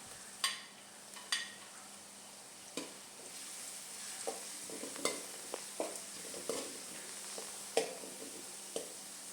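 Green chilies sizzling in a frying pan for an egg roast, a steady close fry with repeated sharp scrapes and clicks of a spoon stirring at irregular intervals.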